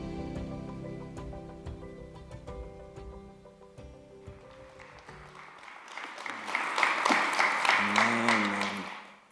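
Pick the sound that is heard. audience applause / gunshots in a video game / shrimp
audience applause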